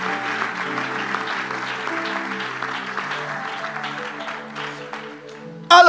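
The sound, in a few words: congregation applauding and cheering for the Lord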